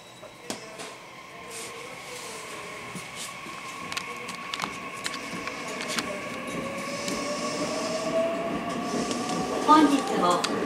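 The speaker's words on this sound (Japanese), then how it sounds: "この電車は天理三輪方面桜井行きです。" A JR West commuter train on the Sakurai Line rumbles steadily along the rails with rhythmic clicks and clacks, a sustained whine building slightly louder toward the end.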